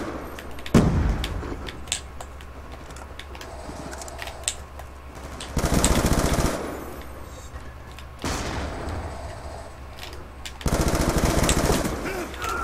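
Gunfire in Call of Duty: Black Ops 2 during an online match, sustained rattling bursts over a steady low hum, with two especially dense loud volleys midway and at the end.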